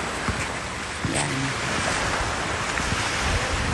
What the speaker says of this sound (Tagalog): Maalon. Maalon yung dagat.